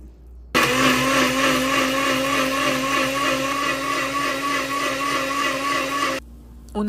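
A loud blender kicks on abruptly, blending cooked ingredients with a cup of water, whirring at a constant high-pitched roar for several seconds, then cuts off, followed by a brief quiet restart at the end.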